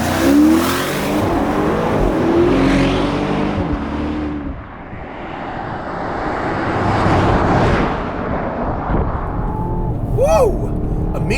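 A BMW Alpina XB7 SUV accelerates hard, its engine rising in a loud, close surging roar through several gear pulls before easing off, with wind rush behind it.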